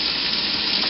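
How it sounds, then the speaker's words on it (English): Finely chopped garlic sizzles with softened onions in a hot pan, a steady, dense, hissing frying sound that holds without pause. Close and fairly loud, with no voices. "So saute this for 2-3 minutes"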